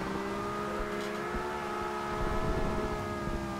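Virtual Nissan Skyline 2000GTR drifting in Forza Horizon 2, a sustained loud engine drone held at steady high revs with layered tonal whine and a faint tire hiss, continuous throughout.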